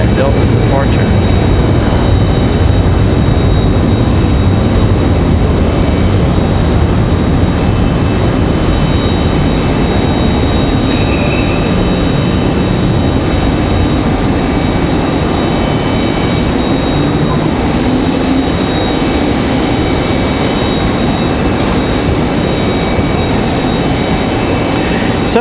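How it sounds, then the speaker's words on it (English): A Delta Airbus A321 departs Raleigh-Durham bound for Atlanta, its jet engines producing a loud, continuous broadband roar that holds steady throughout, with a voice speaking faintly underneath. "All right, the A321 back to Atlanta. Another fantastic looking at Delta departure."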